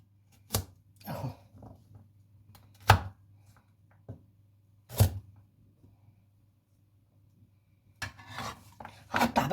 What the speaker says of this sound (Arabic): هقطع بقى كل الكميه دي